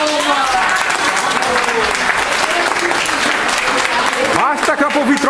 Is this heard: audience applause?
yes